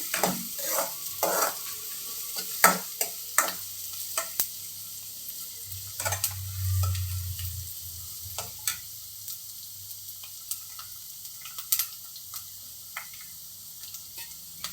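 Onions fry in a pan with a gentle sizzle beneath frequent clicks and scrapes of a spoon stirring, the knocks coming irregularly throughout.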